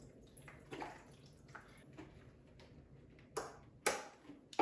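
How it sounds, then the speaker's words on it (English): Tie-dye water is poured and splashed into a washing-up bowl, giving soft, continuous sloshing and trickling with a few sharper splashes and drips near the end, quiet and close with no talk. "it's splashing everywhere"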